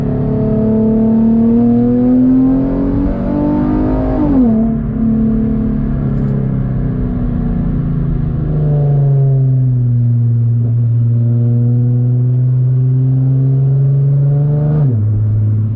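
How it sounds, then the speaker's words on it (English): A modified Infiniti G37x with a gutted exhaust pulls hard in third gear, its engine note climbing steadily and loud from inside the car, then easing off before the revs rise again. "Downshifts are crisp. Third gear."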